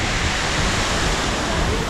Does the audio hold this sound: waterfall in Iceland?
yes